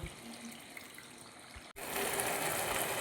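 Water from a tap pours in a steady rushing stream, quiet at first and then louder, as it goes into a pan for chilli chicken.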